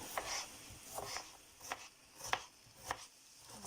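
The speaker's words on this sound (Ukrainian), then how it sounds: "Поки м'ясо обсмажується, наріжу цибулю." A knife chops an onion into quarter rings on a board, five or six sharp, evenly spaced cuts under a steady background hiss, fairly quiet.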